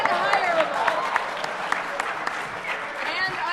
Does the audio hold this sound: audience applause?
yes